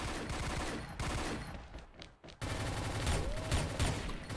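Rapid gunfire in the video game XSHOT, dense loud bursts of shots with a short lull in the middle before the firing resumes heavily, and players talking faintly underneath.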